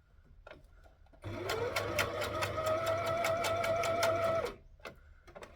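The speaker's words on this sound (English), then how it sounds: "you can feel where the fabric is to make sure that you're stitching over it" A sewing machine stitches fabric for a rashie (rash guard) in one steady, fast run of about three seconds, loud and close, with quiet handling before and after and no talk.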